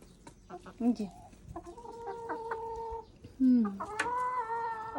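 Tame hens cluck in short, close bursts with a few louder rising calls, fairly loud and near, with little else around them.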